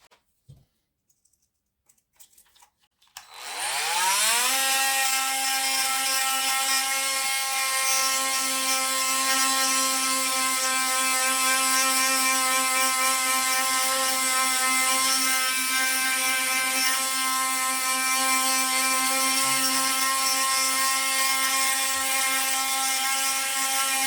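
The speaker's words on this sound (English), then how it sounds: "Sanding sheet for metal, P80, or let's use the P60" A Parkside PAMFW 12 C3 cordless multi-tool sanding metal with a P60 sheet whines steadily at high speed after a quiet start, a continuous buzzing drone with no pauses for about twenty seconds.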